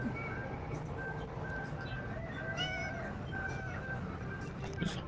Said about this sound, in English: Is that a cat? How can I hear a cat?